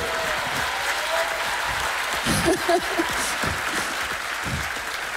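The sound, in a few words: audience applauding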